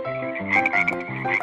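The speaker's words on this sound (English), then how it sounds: "Thousands of frogs came out of the river." Frogs croak in a fast, rhythmic series of close, loud throaty calls with rising and falling pitch, continuing without pause and with no voices.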